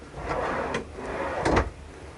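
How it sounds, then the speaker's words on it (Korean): A damped soft-close sliding drawer in a camper van slides shut and eases closed softly, followed by a second gentle slide and muted thump, close by with no talking. "이렇게 댐퍼 다 되어 있기 때문에 자동으로 다 들어갑니다."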